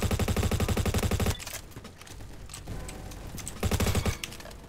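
Honey Badger rifle firing in a video game, with rapid automatic bursts at the start and again near the end and a busy stretch of quieter gameplay noise between them, loud and close.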